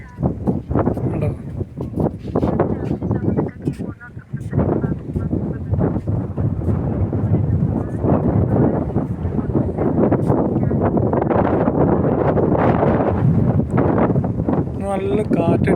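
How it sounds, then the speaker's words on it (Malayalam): Strong wind blows across Bin Ghanam Island near Al Khor, Qatar, buffeting the microphone in loud, continuous gusts throughout, with a voice speaking over it. "നല്ല കാറ്റടിക്കുന്നു, നല്ല കാറ്റ് വീശുന്നുണ്ട്."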